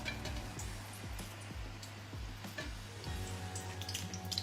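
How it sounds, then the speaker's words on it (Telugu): Bitter gourd pakoda, bitter gourd fritters shaped like flowers, frying in hot oil, giving a steady close sizzle with low bubbling and a few faint clinks. "ఇప్పుడు వేడిగా ఉన్న నూనెలో వేసేసుకుందాం మంచి క్రిస్పీగా అయ్యేంత వరకు ఫ్రై చేసుకోవడమే"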